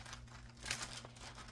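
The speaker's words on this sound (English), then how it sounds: "apologies for the crinkly noise." Release paper being crinkled and handled at a craft table, a brief, close rustling crackle that swells for a moment in the middle over a low steady hum.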